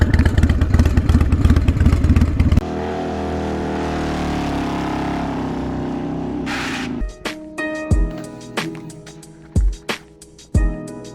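Harley-Davidson Sportster 48 motorcycle running loud and close, a heavy engine drone giving way to a steadier hum, then sharp clattering knocks and rattles at irregular intervals, with no talking.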